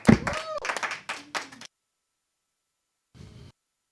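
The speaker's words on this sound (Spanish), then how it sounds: "lo vamos a recibir con un fuerte aplauso" An audience at a Catholic music and faith event claps briefly while voices call out, then the sound stops abruptly. A faint, short burst follows after a pause.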